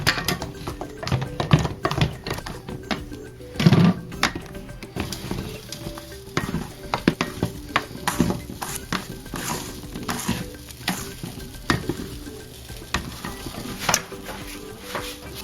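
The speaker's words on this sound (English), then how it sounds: "So now you want to put the egg white into the batter." Soft scraping and stirring of a spatula folding egg white into Japanese cheesecake batter in a bowl, with occasional clinks of utensils against the dish, steady and close.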